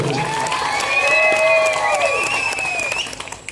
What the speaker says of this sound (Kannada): ಆ ರಂಗಭೂಮಿ ಕಲಾವಿದರಿಗೆ ಎಲ್ರಿಗೂ ಒಂದ್ಸರಿ ಒಂದು ಜೋರಾದ ಚಪ್ಪಾಳೆ ಬರಲಿ